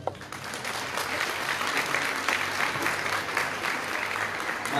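An audience at a 42nd anniversary ceremony of the Universidad Pedagógica Nacional 162 in Zamora, Michoacán, applauds during a career-recognition award, a steady wash of many hands clapping at moderate level for about five seconds.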